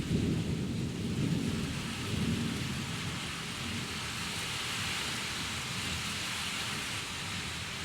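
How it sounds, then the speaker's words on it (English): Heavy rain pours down in a steady hiss, with low rumbling thunder rolling loudest in the first few seconds before easing into a constant downpour. "It just started raining super hard"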